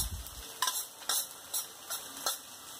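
Boiled long-grain rice being stirred in a frying pan for Indian-style fried rice, a soft sizzle under a run of evenly spaced scrapes and taps of the spatula against the pan, close and fairly quiet.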